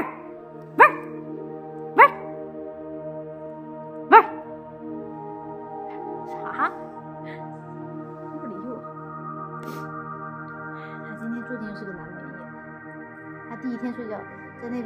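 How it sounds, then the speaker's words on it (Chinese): A small dog gives a few sharp, loud barks early on, spaced a second or two apart, with a softer yip later, over a steady tonal background hum in a newly moved-into home. "发出那种狗叫的声音的时候还挺像一只恶犬的"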